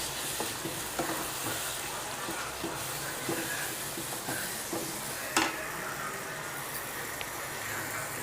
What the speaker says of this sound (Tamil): குடமிளகா சேர்த்த பிறகு ரொம்ப நேரம் நம்ம வதக்கக்கூடாது. ஒரு 2 நிமிஷம் தான் அதில் வதக்கணும்.